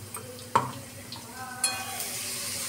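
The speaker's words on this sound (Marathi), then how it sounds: "हे सर्व मिश्रण व्यवस्थित परतून घ्यायचं।" Garlic and onion mixture sautéing in a pan for a Maharashtrian bharit, a soft sizzle with a few sharp spoon-on-pan clinks and stirring scrapes, fairly quiet and steady with no talking.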